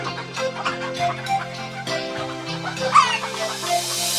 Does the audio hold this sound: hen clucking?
yes